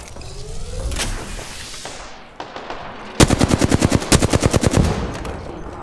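Automatic weapon fire in Apex Legends, a rapid burst of about a dozen loud, evenly spaced shots after quieter game effects and a few earlier single cracks.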